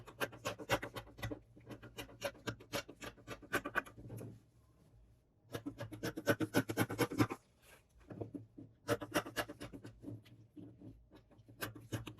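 Scissors cutting lining fabric along a paper pattern for a newsboy hat, heard close as bursts of rapid crisp snipping and scratchy rustling, separated by two short quiet pauses.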